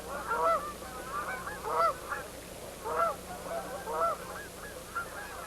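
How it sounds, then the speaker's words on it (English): Dusky geese honk at a moderate distance, sending out clusters of nasal calls about once a second over a steady background hiss, fairly faint and without voices. "These are dusky geese."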